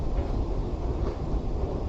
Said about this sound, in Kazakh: Мен қазір метроға түсіп келе жатырмын.